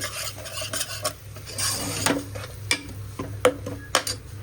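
Onions frying in a masala base, stirred with a utensil that knocks and scrapes against the pan in repeated sharp clatters over a low sizzle.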